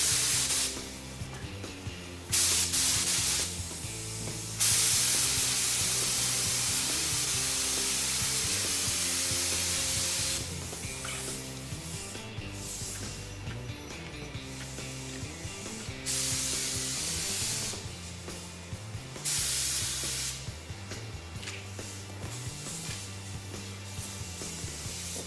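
An aerosol can sprays a light primer coat in short hissing bursts with brief pauses between passes, while a steady tonal hum continues underneath.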